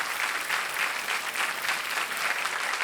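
Sustained studio audience applause on Kaun Banega Crorepati, a thick even wash of clapping lasting a few seconds, heard alone without voices.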